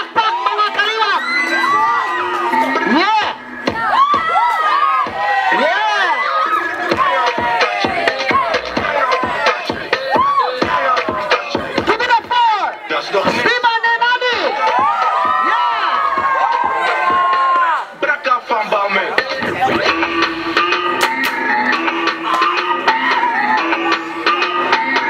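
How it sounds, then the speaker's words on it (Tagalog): A party audience at an 18th-birthday debut celebration applauds and cheers for a sustained stretch, with children shouting, whoops and excited voices layered over steady clapping, close and loud throughout. "Palakpak mga kaliwat!"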